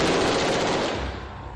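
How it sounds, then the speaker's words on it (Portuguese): Police fire AK-47 rifles at a shooting range, a loud rapid burst of automatic gunfire echoing close, then trailing off into reverberation. "O policial atira com 3 armas."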